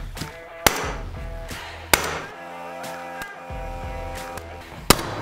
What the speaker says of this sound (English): stapler for putting in hardwood in the house